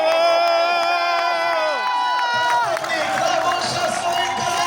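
Spectators at the Radenci marathon finish line cheer and applaud a finishing runner in a continuous loud wash, while an announcer talks over the noise.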